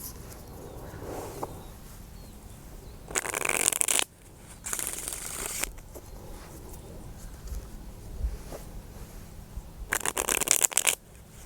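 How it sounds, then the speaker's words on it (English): Tarot cards being shuffled in several separate bursts of riffling and flicking, each lasting about a second, with quieter rustling and handling between them and no talking. "So I'll shuffle 3 times"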